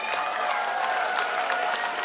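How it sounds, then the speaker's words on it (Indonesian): Steady applause from an outdoor evening audience at a regional anniversary event where a public service vehicle is being launched, continuous and moderately loud, with a sustained tone and faint crowd murmur underneath. "tepuk tangan dulu, ayo"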